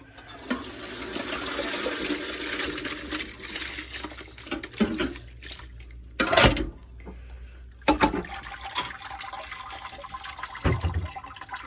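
Boiled homemade pasta drained in a colander with cold water, a running, splashing rush of water that swells and drops with a few louder pours, close and alone without talk.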